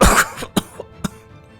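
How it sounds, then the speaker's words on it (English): An impaled officer coughing up blood: a harsh wet cough burst followed by three shorter, weaker coughs spaced apart, close and loud with no talk. "The officer can only cough up blood in response."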